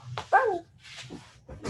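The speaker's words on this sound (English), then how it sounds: "Sorry, that was my dog." A pet dog indoors lets out a sharp whimpering yelp followed by a couple of softer barks and whines, close by, while a person briefly speaks.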